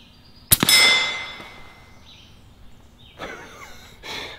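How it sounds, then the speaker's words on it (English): An air rifle slug smashes into a steel plate after passing through a soda can, giving one loud, close metallic clang that rings and fades, followed by fainter rattling noises. "it went through the soda and then smashed the steel plate behind it"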